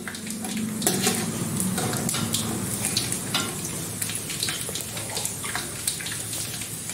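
Peanuts being stirred and fried in a pan, with a steady close sizzle and intermittent scraping and metallic clinks from the stirring.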